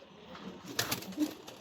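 Racing pigeons coo softly and intermittently at close range, with a brief flutter of wings partway through and no voices.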